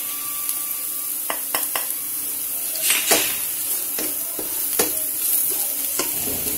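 Crushed red chillies and salt sizzle in a hot pan for a tomato chutney, with a steady frying hiss broken by repeated sharp scrapes and clinks of a spoon stirring against the metal.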